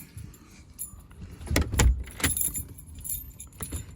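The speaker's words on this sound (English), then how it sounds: "I'll just grab my keys." A bunch of keys is picked up and jangles in short metallic bursts, loudest near the middle. The jingling is close by, with quieter rustles before and after.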